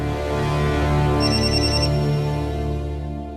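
A mobile phone ringtone rings indoors, a loud electronic melody with repeating bright tones over a sustained musical backing, heard alone.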